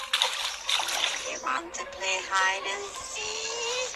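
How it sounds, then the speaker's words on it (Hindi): Water splashes in the Granny video game around a deep pool, in several close, sloshing bursts heard under and between voices. "देखो भाई पानी कितना ज़्यादा होता है पीछे"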